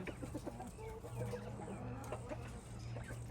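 Backyard hens, a black Jersey Giant and a speckled Sussex among them, cluck and murmur close by over a constant low hum, with scattered short calls throughout.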